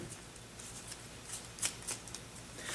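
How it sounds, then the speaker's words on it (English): A deck of playing cards is shuffled and mixed by hand in several quick, crisp riffling bursts, close and fairly quiet, with no voices. "Take the cards. Shuffle them up. Mix them up as much as you want."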